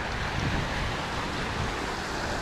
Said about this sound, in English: Well, it's not even a waterfall, it's a culvert.